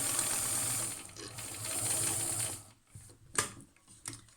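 A sewing machine stitching a fabric mask seam on a 6 millimetre foot runs in a steady mechanical whir for a couple of seconds, then stops, followed by a few quiet clicks and handling sounds.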